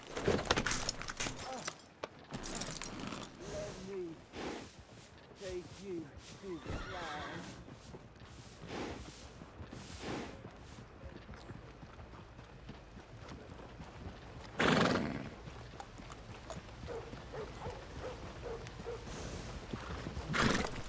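A horse in the video game Red Dead Redemption 2 neighs and snorts amid clip-clopping hooves, with a loud whinny partway through and jangling tack over a steady outdoor background.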